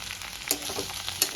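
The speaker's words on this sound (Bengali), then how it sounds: "সবজিটা আমার পুরো ভাজা ভাজা হয়ে গেছে" Papaya, potato and green banana curry frying in a pan, a soft, steady sizzle broken by two sharp stirring clicks.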